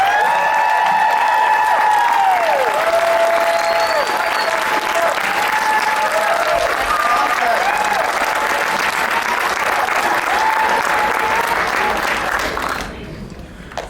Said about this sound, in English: Can you please help me give them a huge round of applause?